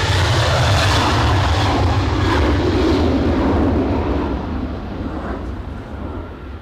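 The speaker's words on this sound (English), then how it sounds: "You can give me the sound of a 737 full blast over any musical you could think of." A Boeing 737 jet runs at full power at Edinburgh Airport in strong wind, a loud broad roar that holds steady and then slowly fades as the aircraft moves away.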